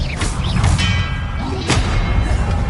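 Expelliarmus spell cast in Hogwarts Legacy, with thudding magical bursts and whooshing swishes, two or three sharp impacts over a low rumbling background.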